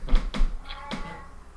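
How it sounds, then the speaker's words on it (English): A pet cat meows loudly in the background, four short strained yowls spaced about a quarter second apart, close to the microphone, with no talk over them. "my cat's yelling in the background"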